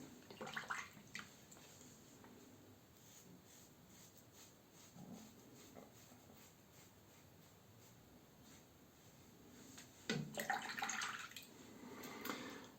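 Water runs from a tap over a Muhle R41 safety razor as it is rinsed after a shave, a soft steady wash that swells louder near the end with some brief splashy bursts.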